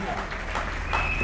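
A church congregation applauds at a service, giving a brief burst of dense, continuous clapping under loud voices and worship sounds.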